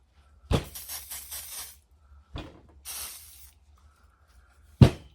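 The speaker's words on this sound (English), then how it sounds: "we're going to spray that one up with WD-40," WD-40 is sprayed onto parts of a 1972 Volkswagen Super Beetle door, in three close, loud hissing bursts of about a second each, followed by a short final blast.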